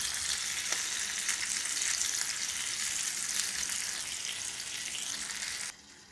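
A pork chop searing in a hot pan, close and steady crackling sizzle with faint stirring texture, dropping to quiet abruptly at the end as a lid goes on.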